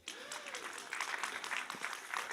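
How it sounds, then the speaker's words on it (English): An audience at a town meeting gives a short round of applause, a moderate, fairly close patter of many hands clapping that rises quickly and continues evenly, with a faint voice at the start. "Well, another round of applause."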